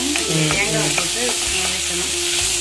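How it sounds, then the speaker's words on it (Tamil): Garlic and tomato sautéing in a pan for a spicy stuffed brinjal masala: a loud, steady sizzle with repeated scraping strokes of a spoon stirring through the mix, and no voices. "ஓகே இது வதங்கட்டும்"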